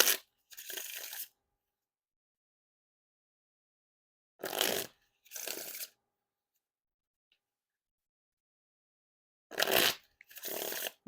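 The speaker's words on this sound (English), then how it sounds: "And now time for the riffle shuffle or bridge shuffle." Three quick riffle shuffles of a Theory11 818 playing card deck, each a short crisp burst of fluttering card edges followed by a soft bridge, separated by several seconds of silence, close and clear.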